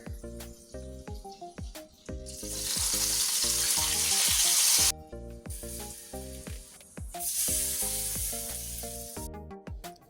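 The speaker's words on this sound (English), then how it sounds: "So you're gonna cook these about 4 to 5 minutes on each side, because you know salmon is very easy to cook." Salmon fillets fry in avocado oil and butter in a pan, the sizzle surging in two loud, sustained bursts over steady background music, with no one speaking.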